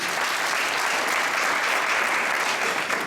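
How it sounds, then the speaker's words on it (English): An audience at a student graduation ceremony applauds the zonal committee with dense, continuous clapping that holds at an even level for the whole stretch. "Please clap for them."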